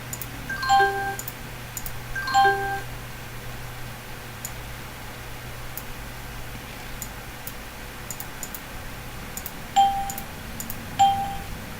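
Windows for Workgroups 3.11 default startup chime, a few bright chime tones sounding in pairs near the start and again near the end over a low steady hum, with no speech.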